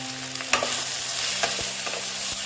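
Small tengra fish frying with potato and eggplant in a pan, stirred with a few sharp scraping knocks over a steady low sizzle.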